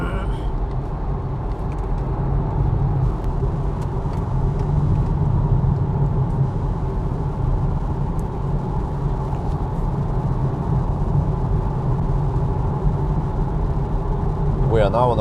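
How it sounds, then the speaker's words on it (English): A Polestar 2 Long Range RWD rolls over a concrete road surface near Falkenberg, giving a loud, constant low rumble of tyre and road noise inside the cabin, with faint voices now and then. "We are now on a concrete surface around Falkenberg, and holy macaroni, this thing is loud."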